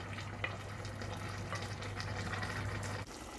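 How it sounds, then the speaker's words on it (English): Reserved marinade and garlic scraped into a hot pan, sizzling and frying steadily with stirring and scraping, fairly quiet and alone without talk. "So now we're going to add the reserved marinade and all the lovely garlic, scrape that all in there."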